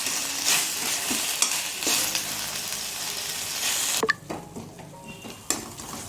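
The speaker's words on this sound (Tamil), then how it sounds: "கொஞ்சம் நல்லா வதங்காக்குறேன்." Tomatoes sauté in a pan as the base for a chicken gravy served with ragi kali. A steady close sizzle runs under scraping stirs from a spoon, the frying suddenly quietens partway through, and a few metallic clinks follow.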